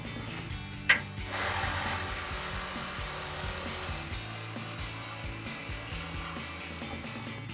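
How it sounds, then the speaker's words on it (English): A power tool cuts through the rear of an old exhaust muffler on a Chevrolet Silverado 1500, a sharp clank followed by a steady, close grinding buzz that runs on without pause. "we have to cut the back of this muffler off to drop the muffler"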